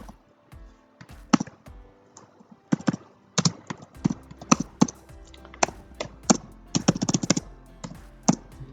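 Code is typed on a computer keyboard, sharp, close key clicks in irregular bursts and clusters separated by quiet pauses.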